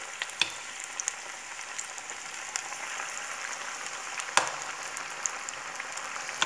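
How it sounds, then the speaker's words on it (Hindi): Maggi noodle pakoras with cornflour sizzle in hot oil, a dense, even frying hiss with scattered sharp pops and crackles that runs steadily throughout. "ये अभी हम इसमें सेकेंड टाइम पकोड़े डाल रहे हैं"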